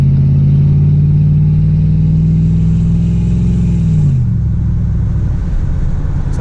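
LS-swapped OBS Ford truck engine on a drive, a loud steady rumble held at high revs that drops sharply as the throttle lifts, then settles into a lower drone.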